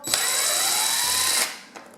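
A cordless battery drill backs a screw out of a plastic table fan casing in one steady, close whir lasting under two seconds, then cuts off with a faint click.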